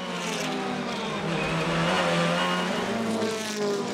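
Touring cars roaring during a reverse-grid race, engines revving hard and loud up close with a rising, surging whine that peaks midway, no speech.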